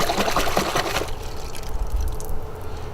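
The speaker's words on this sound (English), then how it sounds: "Rinse it out nice. Stick it in your rinse water." A brush swished and rinsed in a bucket of rinse water during a two-bucket wash, giving about a second of close, busy splashing that settles into quieter dripping and faint sloshing.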